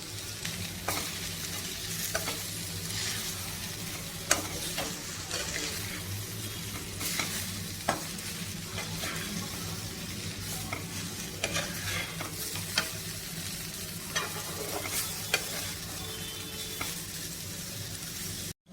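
Wilted drumstick leaves stir-fry in a pan with coconut chili powder: a dense, constant sizzle runs throughout, with steady scraping and tapping of a spatula at regular intervals, close and even in loudness, and no talking.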